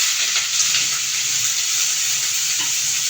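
Finely chopped onion sautéing in hot oil with mustard seeds for a moong dal and palak dish, a steady loud sizzle with faint stirring sounds close by, no talking.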